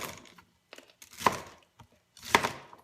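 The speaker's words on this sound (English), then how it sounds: "Chunky pieces of asparagus. I'll just roughly chop these 2." A knife roughly chopping asparagus into chunky pieces on a board, with a few sharp, separate cuts and thumps spaced irregularly, close and fairly loud, and no talking.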